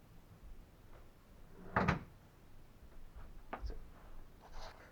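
Wooden drawer of a pooja mandir pulled open, a brief soft wooden slide and knock, followed by a few fainter clicks and rubs in a quiet room.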